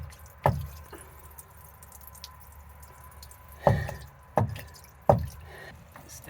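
Dirty water drips slowly from the bottom of a filter funnel while draining from a diesel tank, a few sharp close drops spaced irregularly over a quiet background.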